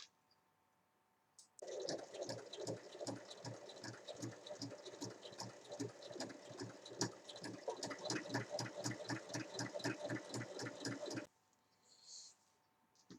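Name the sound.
sewing machine stitching a fabric toy bin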